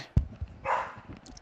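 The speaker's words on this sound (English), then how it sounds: "What are you barking at?" A dog lets out a single short, faint bark or yip indoors, with a couple of soft thumps nearby and no talking.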